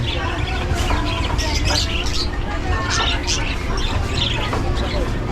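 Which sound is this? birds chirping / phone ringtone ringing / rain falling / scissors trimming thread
birds chirping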